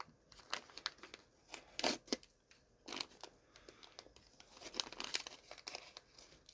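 Crinkly plastic packaging of a Mini Brands capsule is unwrapped and torn open up close, with irregular bursts of crackling and ripping and quiet pauses between.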